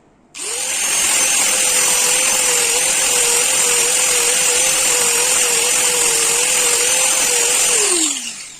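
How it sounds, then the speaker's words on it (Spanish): A loud, high-pitched angle-grinder whine with a flap disc starts abruptly, grinds steadily over steel welds with a harsh abrasive hiss for several seconds, then winds down. "Con un flap, que se llama esto, que es un disco con unas lijas"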